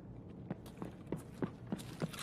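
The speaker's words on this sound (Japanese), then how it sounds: "足音なのだ。" Enemy footsteps in the shooter Escape from Tarkov, a faint series of about six evenly spaced soft steps, muffled and somewhat distant against a low background hum.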